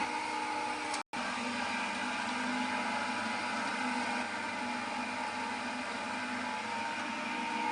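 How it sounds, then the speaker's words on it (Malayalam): Onion cutting machine slicing a large onion, a steady, loud motorized whir running continuously with one brief cutout near the start. "വലിയ ഉള്ളി കട്ട് ചെയ്യുന്ന യന്ത്രമാണ് നമ്മൾ കണ്ടുകൊണ്ടിരിക്കുന്നത്"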